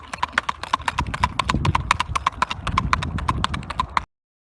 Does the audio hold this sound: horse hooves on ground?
yes